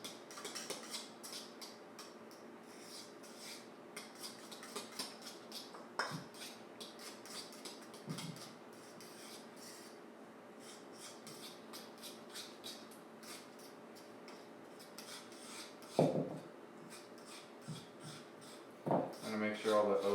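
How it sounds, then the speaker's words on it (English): Oats stirred into egg for protein pancake batter, soft scraping and light clinks of a utensil against a bowl, quiet and intermittent, with a few sharper knocks near the end. "Mix the oat with the egg."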